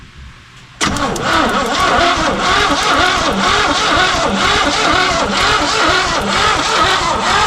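A 1968 Chevrolet C30 truck engine, parked for years, cranks and catches after a quiet moment. It settles into a loud, loping idle with an uneven rhythmic beat, and a voice speaks briefly.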